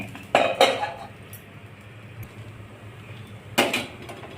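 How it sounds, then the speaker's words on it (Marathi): A metal spatula clinks sharply against a pan while a poha thalipeeth is flipped: two quick knocks near the start, then a pause and one more knock at the end, with a faint background hum. "आता आपण थालीपीठ उलटत आहोत."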